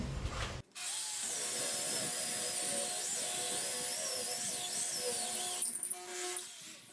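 An electric drill bores a hole through thickly plastered wall for a kitchen sink drain pipe during a granite sink install, whirring steadily and loudly for about five seconds after a brief pause, with no talk over it.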